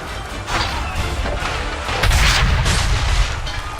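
Cannon fire in Assassin's Creed III booms out as heavy, rumbling blasts, with a louder, deeper impact crashing in near the middle and echoing away.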